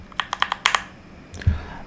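Quick bursts of typing on a Keychron K2 V2 mechanical keyboard with a compact 75% layout, about seven sharp close keystrokes in a rapid run, then a brief pause and a couple of heavier final clacks.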